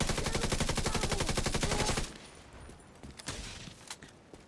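Gunfire in the video game The Division 2: a loud, rapid automatic burst rattles for about two seconds, then breaks off into scattered, fainter single shots and impacts.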